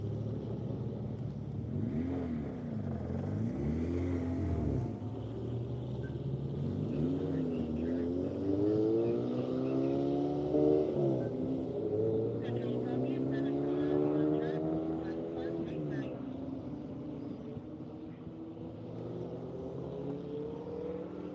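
A Honda CRX autocross car drives the course, its engine revving up and down through rising and falling gear pulls, moderately distant and steady throughout, with faint talk underneath.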